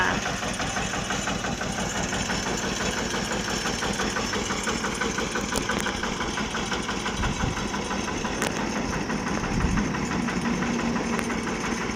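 A used Kubota KRT140 tractor engine runs steadily at idle, a continuous mid-pitched diesel chug with knocking texture, close and alone, without talk.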